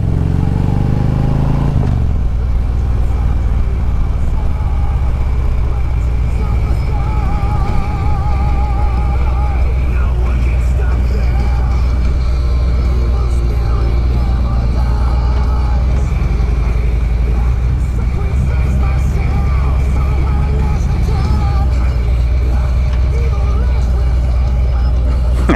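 A Harley motorcycle ride, with the engine's loud, steady low rumble and wind roar running throughout at close range, and voices talking over it.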